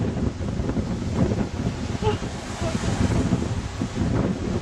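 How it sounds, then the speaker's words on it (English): Strong wind gusts at the beach, with continuous, loud roaring buffeting against the microphone and surf faintly underneath. A voice talks intermittently over it. "And now I will calm the wind. And it is blowing at such a rate"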